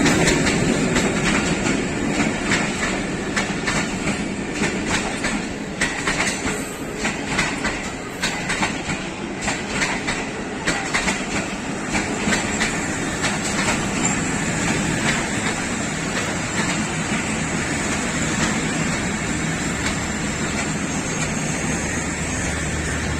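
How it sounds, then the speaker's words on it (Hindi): Awam Express train departing Hasan Abdal railway station in Pakistan, with loud, close clickety-clack of wheels over rail joints and rumbling carriages rolling past steadily, occasional faint squeal. "हसन अब्दाल से रवानगी 13 अवाम एक्सप्रेस"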